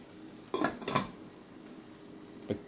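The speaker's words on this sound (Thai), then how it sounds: "แล้วปิดฝาทิ้งไว้" A lid goes onto a cooking pot of kimchi curry, making a quick pair of metallic clanks followed by a lighter single tap a couple of seconds later, in an otherwise quiet kitchen.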